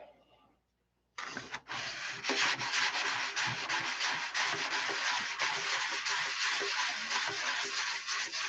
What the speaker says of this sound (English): Got to sand it all back off anyway.